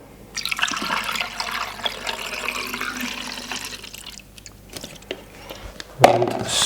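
Xtol developer pours steadily into a film developing tank, a soft continuous liquid splash that fades out before a short louder knock near the end.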